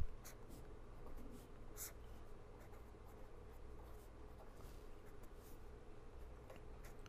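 Pen or chalk scratching during a lecture, soft intermittent writing strokes over a steady low room hum.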